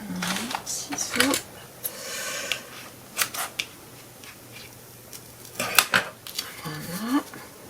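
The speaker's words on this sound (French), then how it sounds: "Ciseaux." A few sharp snips of scissors cutting paper for a craft album page, spaced irregularly, with someone talking in between.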